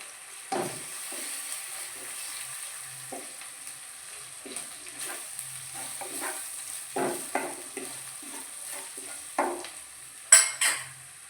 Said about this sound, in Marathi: आलं लसणाची पेस्ट टाकून घ्यायची कांदा लसूण मसाला टाकून घ्यायचा